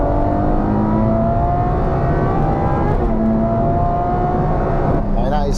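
A Ferrari F12 TDF V12 engine roars steadily at high revs in quick bursts, loud and close, with a brief rising whine near the end.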